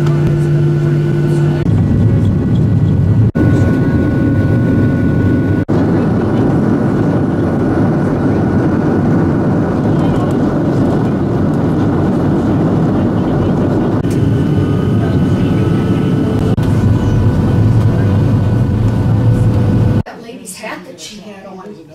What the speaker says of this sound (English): getting ready for the takeoff?